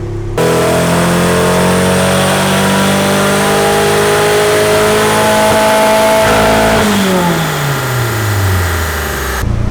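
A turbocharged Nissan S14 engine on a dyno roars loud and steady through a full-throttle pull, the revs climbing and holding high before the note drops and winds down, with no talk over it.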